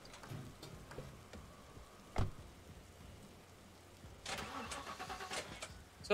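Car engine starting in The Last Stand: Aftermath, a quiet game scene with a sharp click, then the engine cranking and turning over midway and running on, with faint rain-like ambience underneath.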